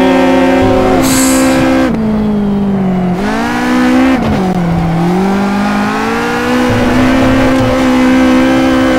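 A Caterham 620R thrashed around a kart track, its engine revving hard and loud up close, dropping briefly as gears change and then climbing again in a continuous snarl, with no talking.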